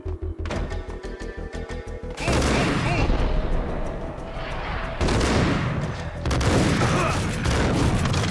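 Enemy suppressive gunfire in Max Payne, a rapid burst of close, loud automatic shots giving way to dense roaring volleys and booming explosions that swell in waves, with sustained battlefield clamor.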